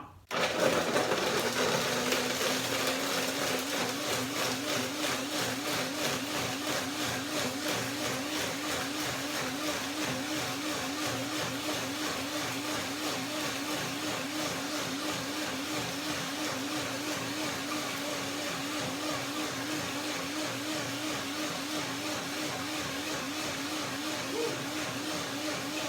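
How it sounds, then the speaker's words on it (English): A blender whirring steadily through water, almonds, bananas and strawberries, a loud continuous motor whine with a churning, pulsing texture that starts abruptly and holds for the whole stretch. "So I put some water to get the blender going and do my blender dance."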